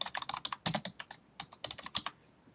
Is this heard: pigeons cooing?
no